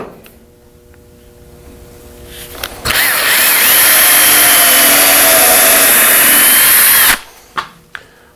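A power drill pre-drills pallet wood for a rustic mug shelf, a loud, steady high whine lasting about four seconds close up, followed by a few short knocks of handling after it stops.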